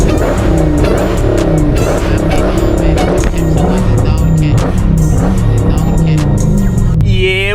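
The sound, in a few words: Dodge Hellcat car sliding in snow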